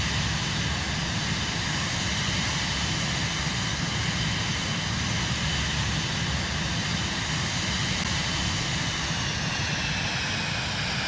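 Steady airplane engine drone from Microsoft Flight Simulator 2024, a loud, constant broadband roar that holds unchanged throughout with no talk over it.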